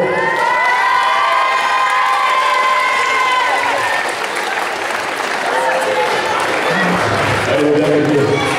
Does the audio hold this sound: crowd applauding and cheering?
yes